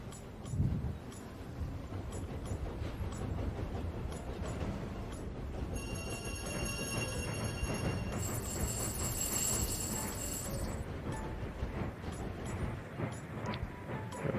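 Passenger train in the Tiny Rails mobile game, a continuous low rumbling run with a bright ringing bell-like chime layered over the middle stretch, fairly quiet and alone.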